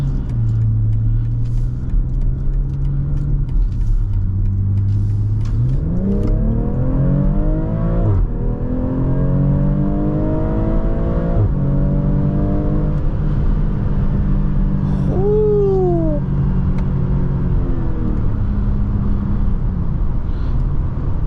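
A BMW accelerates on the road, its engine rising through the gears in repeated sweeping climbs over a steady close rumble, with a long revving pull in the middle and no speech.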